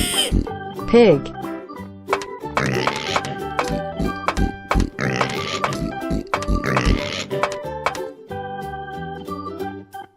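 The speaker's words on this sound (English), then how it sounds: "Pig." A cartoon pig oinks in a kids' color-learning video, with several repeated snorting grunts spread across the clip among bouncy musical effects and other cartoon sounds.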